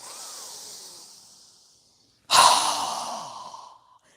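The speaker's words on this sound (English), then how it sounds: "Inhale. Strong exhale." A strong, forceful exhale during a yoga breathing exercise, preceded by a softer inhale, then a brief pause and a loud, rushing breath out that fades over about a second and a half, close to the microphone.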